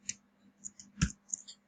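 Calculator keys are pressed in a quick scattered series of light plastic clicks, about five or six taps close by with a faint steady hum underneath.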